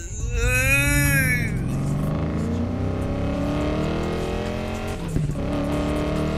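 A car in the racing video game Need For Speed Payback accelerates hard, its loud engine note climbing steadily in pitch through sustained revs, with a brief clunk near the end and little or no talk.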